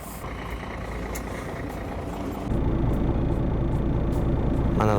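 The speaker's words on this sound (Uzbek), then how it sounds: "Mana do'stlar, avtobusim ham keldi." City bus pulling up at a stop in Germany, a heavy diesel engine rumble that grows louder and closer halfway through, with hissing and faint beeps near the end.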